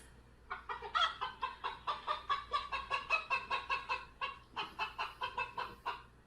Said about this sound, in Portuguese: Vamos ver o som que a galinha faz.